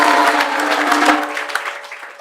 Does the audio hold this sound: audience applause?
yes